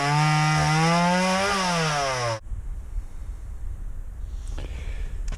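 A power saw cuts wood on a sawhorse: a loud, close motor whine that rises and falls in pitch, then stops abruptly partway through, leaving quiet room noise.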